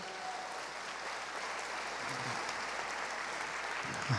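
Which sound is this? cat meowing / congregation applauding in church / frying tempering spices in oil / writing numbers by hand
congregation applauding in church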